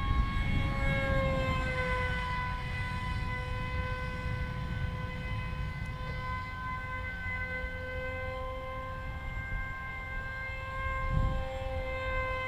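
A radio-controlled MiG model jet with active canards flies its maiden flight, giving a steady high whine and roar with sustained tones that hold constant for the whole stretch, fairly loud, with no talk.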